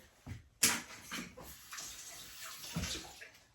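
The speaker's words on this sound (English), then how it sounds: "Rinsing off the egg because, you know, hygiene." A kitchen tap runs while an egg is rinsed off under it, the water splashing and gushing in uneven bursts close by, loudest when the flow first hits.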